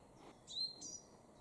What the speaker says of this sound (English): We're in a wood full of birds